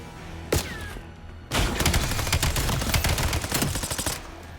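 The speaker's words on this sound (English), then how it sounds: "I'm gonna spare you from the explosion by shooting you." Gunfire in a Black Ops 7 video game campaign: one sharp shot, a brief pause, then a loud sustained burst of rapid automatic fire that runs almost to the end.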